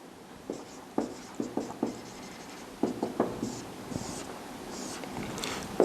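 Marker or pen strokes on a board while writing out a chemistry example in a lecture, a run of short scratchy bursts with brief pauses, close and fairly clear, with no talking.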